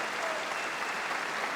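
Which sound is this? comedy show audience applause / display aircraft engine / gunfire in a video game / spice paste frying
comedy show audience applause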